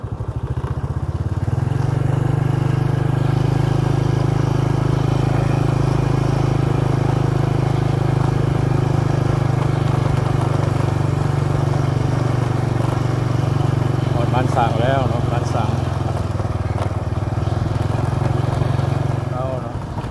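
A tractor engine chugs steadily and loudly as it drives past rural rice fields in Laos, a constant low drone for the whole stretch, and a voice speaks briefly under it near the end.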